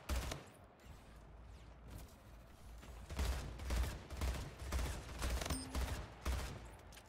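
Rapid bursts of battle rifle gunfire in the SplitGate video game, repeated clustered volleys of sharp shots at moderate loudness with no talk over them.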